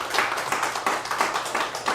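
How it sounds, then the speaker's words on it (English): A small group of about five people clapping in a sparse, uneven patter for a presidential campaign announcement, close and steady for a couple of seconds with no talking. "5 people clapping."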